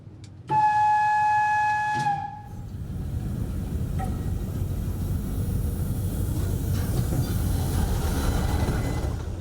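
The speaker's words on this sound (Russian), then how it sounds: "Абхазская железная дорога закупила два магистральных локомотива – электровоз и тепловоз" Abkhaz Railway locomotives, an electric and a diesel, running: a loud steady horn blast opens, then a continuous rumbling roll of rail traffic with faint clatter carries on to the end, no voices.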